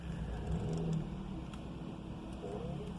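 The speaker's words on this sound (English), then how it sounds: "so I'll just show you engine running" A Nissan Micra engine idles steadily after a drive belt adjustment, a low continuous hum with a brief swell near the start, heard close with faint background noise.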